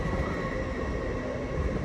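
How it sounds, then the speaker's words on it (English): A Hull Trains service from Hull to London King's Cross, a class 802 unit, rolls through Doncaster station on the East Coast Main Line with a steady low rumble of wheels and engine, continuous and fairly close. "Hull train service from Hull to London King's Cross"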